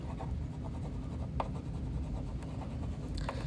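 An oil pastel stick rubs steadily across paper, a soft continuous scratchy friction with slight strokes, close and quiet.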